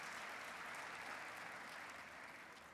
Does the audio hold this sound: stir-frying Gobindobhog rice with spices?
no